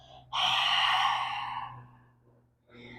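A single deep, audible exhale during a breathing exercise in a strength and stamina workout, a long airy rush that swells quickly and fades over about two seconds, followed by the start of another breath.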